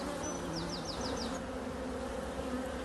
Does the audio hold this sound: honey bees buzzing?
yes